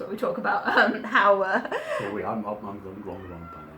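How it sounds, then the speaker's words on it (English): A house cat meowing repeatedly indoors, with drawn-out wavering cries mixed in with people talking and some light laughter nearby. "that's my cat being a bit noisy"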